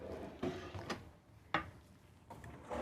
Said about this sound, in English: we do have full extension ball bearing glide drawers here with dovetail